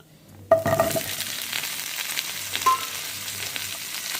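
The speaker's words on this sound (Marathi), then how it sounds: "आता आपण त्याच्यात टाकणार आहोत टोमॅटो." Green tomatoes dropped into hot oil seasoned with cumin and asafoetida: a sudden loud sizzle bursts up and keeps frying steadily, with a light clink of utensils partway through.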